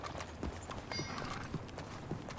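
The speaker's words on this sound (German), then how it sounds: "Ach, ist das schön, wieder mit Sadie zu reiten." Horse hooves clip-clopping at a steady riding pace in the video game Red Dead Redemption 2, set under a continuous bed of background ambience.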